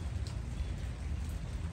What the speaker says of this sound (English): I'm just going to sit out here and listen to the rain and the thunder